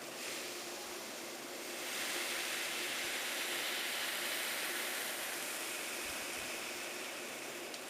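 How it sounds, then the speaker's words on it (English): Steam sizzles as a hot iron presses a wet cloth on a dent in a wooden Ruger 10/22 rifle stock, a steady close hiss that swells after a couple of seconds, then holds and fades slightly. "when it stops sizzling like that, what you want to do is just dip it back into the water and redo it"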